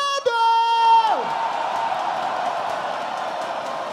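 Studio audience at a rap battle final roars and cheers for Nel, Kurt and Prado, a loud sustained crowd noise following a brief horn or whistle-like tone, steady and dense throughout.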